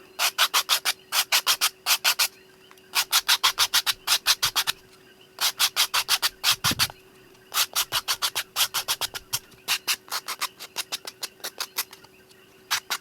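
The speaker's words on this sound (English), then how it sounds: "I'm just gonna season my 150 grit file." Nail files rubbed together to season a new 150 grit file, heard as repeated bursts of quick, even scratchy strokes in groups with short pauses, close and clear with no talking.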